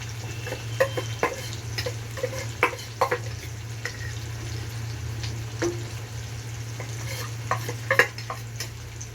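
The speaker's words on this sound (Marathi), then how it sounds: "तो आता फोडणीत असा थोडासा परतून द्यायचा" Steady sizzling of masala frying in hot oil for tempering, with a spatula stirring and scraping the pan at irregular moments; no voices.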